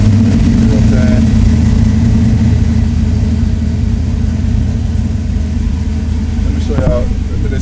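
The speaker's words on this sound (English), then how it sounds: "I don't know how loud that goddamn car is." A loud Oldsmobile Cutlass engine idles steadily up close with a deep, rumbling drone throughout, a slight rev near the end, while someone talks over it.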